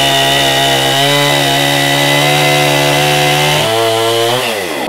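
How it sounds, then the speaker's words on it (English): A chainsaw roars loudly at full throttle, its pitch dipping slightly as it bites into wood, then the engine winds down at the end. "first time I have used a chainsaw, and I'm pretty excited. I'm kind of nervous about it too."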